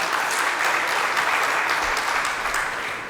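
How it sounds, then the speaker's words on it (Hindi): Listeners at a religious family discourse by Pandit Vijay Shankar Mehta in Nehru Nagar, Bhilai, give sustained, dense applause. The clapping is full and even, then eases slightly toward the end. "आप तो ताली बजाइए आपके लिए जोरदार एक बार"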